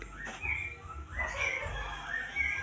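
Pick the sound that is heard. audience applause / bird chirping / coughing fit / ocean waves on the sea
bird chirping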